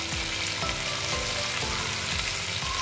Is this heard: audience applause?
no